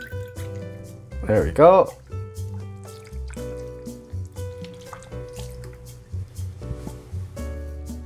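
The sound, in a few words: soy sauce poured into the sauce mix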